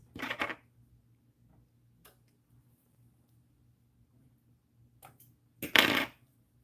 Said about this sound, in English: I heard a pin drop there.